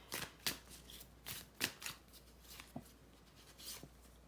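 Colored cards being shuffled by hand, soft riffling flicks and slides in irregular bursts, close but quiet with no talking.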